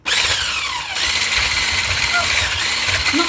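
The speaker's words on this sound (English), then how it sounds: "And we start whisking again" An electric mixer whisks sweetened cream for tiramisu, a steady, loud motorized whir with a gritty buzz that runs unbroken from start to finish.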